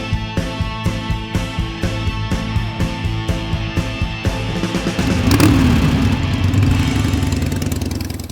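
Motorcycle engine running while riding on a road trip from Bar near Lismore to Bexhill, a steady rhythmic pulsing that swells louder into a strong, sustained drone in the second half, with no talking.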